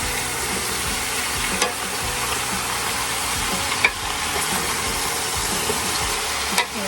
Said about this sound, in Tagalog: Habang nagpiprito siya dyan